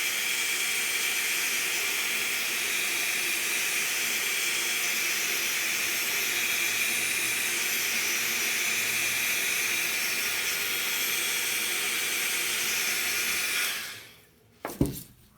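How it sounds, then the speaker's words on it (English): A heat gun blows over an acrylic pour painting with a loud, steady, airy roar that holds for about fourteen seconds before cutting off, followed by a few faint knocks. "Now I'm going to use my heat gun. It's not a hair dryer,"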